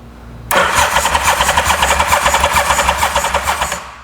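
A Yamaha Vmax motorcycle engine, previously misfiring on two cylinders, cranks and fires into a loud, lumpy idle with a rapid regular pulsing beat, close up and alone after a brief quiet start.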